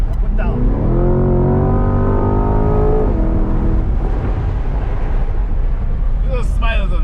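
The naturally aspirated V8 of a Corvette C8 roars close up as the car accelerates hard from 0 to 100 km/h, rising through the revs before an upshift and a steadier drone, with people speaking over it.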